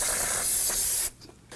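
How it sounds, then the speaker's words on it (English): A sharp spray of solvent from an aerosol can hisses continuously for about a second, then cuts off, leaving quiet with a faint click or two. "we're going to go ahead and spray this down with some spray solvent"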